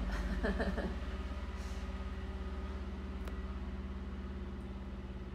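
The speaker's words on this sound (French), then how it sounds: "on laisse passer le tracteur" A tractor passes at a distance with a low, steady, rhythmic engine throb, moderately quiet and heard alone without talking.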